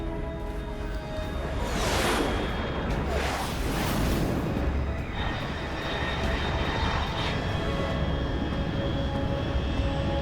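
A fast jet aircraft in the video game Metal Gear Solid Snake Eater roars past at high altitude, with sweeping whooshes over a constant loud engine drone, then a steady rumble as it recedes.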